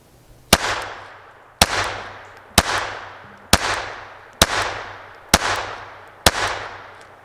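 Seven .22 rimfire pistol shots at an outdoor range, sharp cracks fired singly at a slow, fairly even pace, each followed by a short decaying echo.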